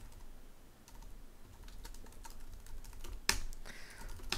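Password keys tapped on a computer keyboard in a quick close run of soft clicks, ending in a couple of sharper keystrokes with no one speaking.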